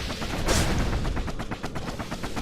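Gunshots in the action video game Bastion: a rapid run of sharp, close shots fired in quick irregular bursts, loud and punchy over a busy game soundtrack, with no talking.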